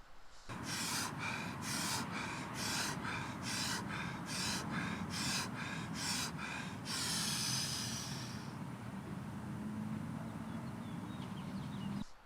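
A voice imitates a man hyperventilating on a downtown sidewalk: about a dozen rapid, rhythmic, harsh breaths in quick succession, then a long trailing exhale fading into quiet background noise.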